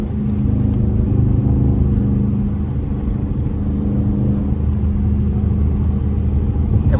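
A 5.7L Dodge Charger R/T V8 drives at night, its engine a steady, loud low rumble with a continuous hum and whir throughout, no voices over it.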